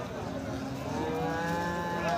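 A cow moos at a rural cattle market among thin, underfed cattle, a drawn-out, rising bovine call that swells in loudness over a low, constant background din of the market.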